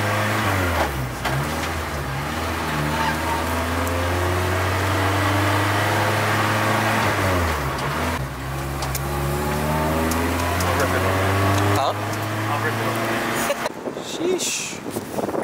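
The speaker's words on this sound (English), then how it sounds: "Sounds like a Honda now." A car engine idles steadily with a quieter exhaust note, a continuous low hum with faint revving changes, while people talk over it.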